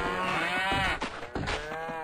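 Cattle mooing in the Survivalcraft 2 video game on a farm, one long loud close low moo that rises and falls, filling the whole moment alone.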